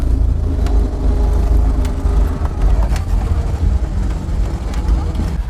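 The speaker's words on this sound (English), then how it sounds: "this Fiat 500 estate family car. The engine's really loud" Vintage Fiat 500 estate family car at a classic car show, its loud engine droning steadily up close with low rumble and wind buffeting throughout.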